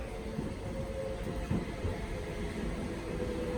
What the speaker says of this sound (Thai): รถไฟมาแล้วนะคะฝั่งนี้มาก่อนนะคะทุกคน